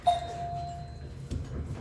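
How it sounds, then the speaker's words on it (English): One bright ding from a service bell, ringing on and fading slowly in a quiet room. "till I rang that bell"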